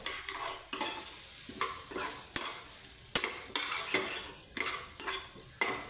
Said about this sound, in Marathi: दोन चमचे जाडसर कूट घालायचं चांगलं परतवून घ्यायचं